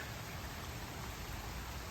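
Heavy rain pours in bright sunshine at a building site where a pole barn roof is being put on. It makes a dense, steady hiss with no breaks and is fairly quiet.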